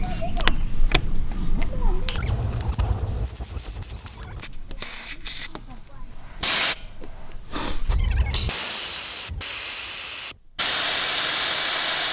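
Loud, close air hissing escapes from a 4x4's tyres as they are deflated on damp beach sand on the Portuguese coast. It comes in intermittent sharp bursts, some long and steady, with brief pauses between.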